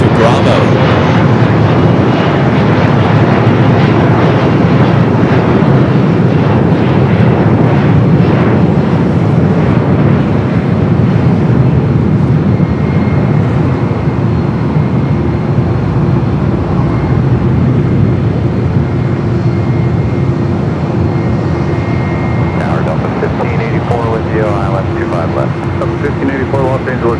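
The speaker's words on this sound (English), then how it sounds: "This A330-200 making that turn onto Bravo." An Airbus A330-200 jet taxis and turns on a taxiway at Los Angeles International Airport, its loud, steady engine rumble and whine droning throughout, with a voice talking over it.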